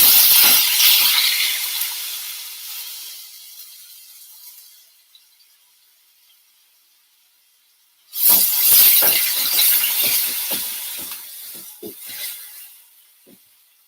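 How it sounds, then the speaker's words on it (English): Spices hitting a hot pan in a Melaka kitchen, a loud hissing sizzle that fades to near quiet, then bursts up again with crackling pops and spits close by. "very important to get that sizzling."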